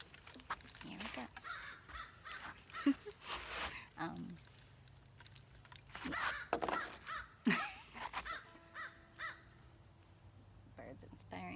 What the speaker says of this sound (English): Birds inspiring my rhythms.